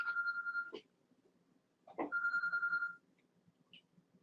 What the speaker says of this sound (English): sorry everyone, I thought I turned off my ringer.